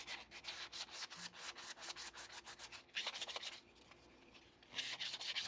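A carved wooden bowl is hand sanded with 320-grit foam-backed sandpaper, giving rapid rhythmic rubbing strokes in quick bursts with a short pause, close and soft, with no talking.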